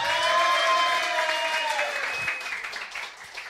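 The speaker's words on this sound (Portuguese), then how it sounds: "aplausos aí para" Audience at a DJ competition final applauds steadily while a sustained tone fades out, and the clapping thins and softens toward the end.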